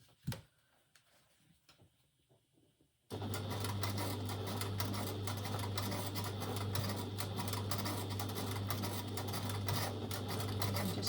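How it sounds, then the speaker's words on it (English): A sewing machine runs steadily while stitching and back stitching a dress seam, a fast, even, loud mechanical whirr and tick. It starts after a few seconds of quiet handling sounds. "Overlap a few stitches where you started and just back stitch a couple."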